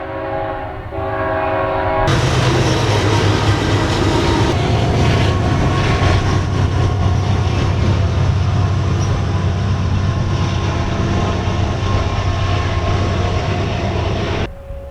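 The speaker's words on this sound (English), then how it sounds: "We'll wait for the train to go by." A train rumbles past close by, loud and sustained for most of the clip, with rhythmic clatter of wheels and a horn blast near the start.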